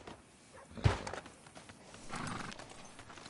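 Horse hooves in a video game, stopping outside a sheriff's office: one heavy thud, then a few soft, scattered clops and light shuffling, fairly close and otherwise quiet.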